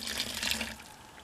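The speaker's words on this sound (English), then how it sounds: "Now grab your cup of water and pour that in slowly." A cup of water poured slowly into dry concrete mix, a brief close splashing trickle that fades after about a second.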